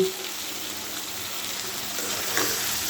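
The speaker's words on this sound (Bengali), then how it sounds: "এই যে আমি কচুরমুখীটাকে একটু তেলের উপরে আনবো টেস্টের জন্য" Pieces of taro (kochurmukhi) frying in oil in a pan, a steady soft hiss of sizzling that swells slightly near the end, close and continuous with no talk.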